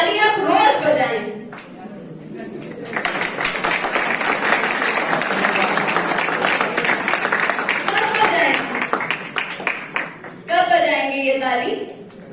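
Sustained audience applause at a Brahma Kumaris women's day programme, a dense wash of many hands clapping that swells for most of the stretch, with a voice speaking over the crowd at the start and end.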